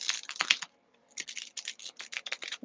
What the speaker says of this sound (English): these cards are so sticky. Let's see here if I can get these to break up a little bit.